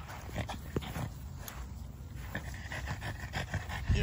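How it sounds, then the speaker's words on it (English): A French bulldog pants rapidly and steadily nearby, with soft breathy huffs and a faint whimper, no talking. "do you hear that panting?"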